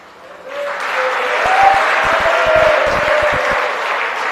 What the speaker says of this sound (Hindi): हाँ, तालियां तो बजाओगे क्योंकि अमीर का मामला आ गया ना।